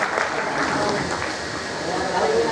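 A church congregation claps loudly and steadily during a Methodist revival meeting in Nanded, the dense applause continuous throughout with a voice speaking over it.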